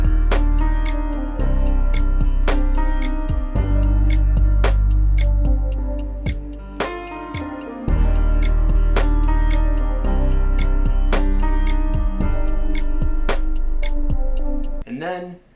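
Lo-fi beat built in Beatmaker 3 around a sample, layered with Moog Model 15 synth and lo-fi drum kits, with steady ticking percussion over warm, heavy bass chords, cutting off abruptly at the end.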